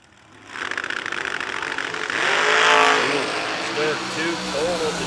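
A Super Gas drag racing roadster powered by a 559 big block Chevrolet engine revs and accelerates off the line, loud and close, building to a roaring peak. An announcer talks over it.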